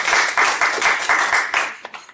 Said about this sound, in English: So have a clap for him.